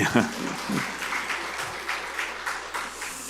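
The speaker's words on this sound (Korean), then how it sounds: "박수하죠, 그러면." A church congregation claps during a Sunday morning worship service, a light, uneven patter of applause in soft bursts over a steady low hum from the hall.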